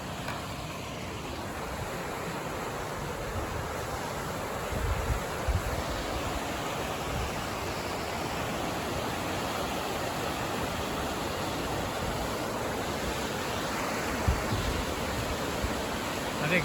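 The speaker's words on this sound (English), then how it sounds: "I am down by the river now" A river rushes steadily near a Timberline Trail crossing, a dense, continuous roar of flowing water heard up close and loud throughout, with no let-up.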